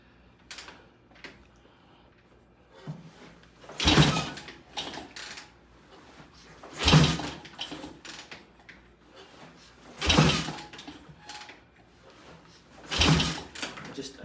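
An old carbureted Suzuki-style motorcycle fitted with a cold starter is kicked over repeatedly, about four strong thumping kick strokes spaced a few seconds apart, with lighter mechanical clicks between them and no engine catching.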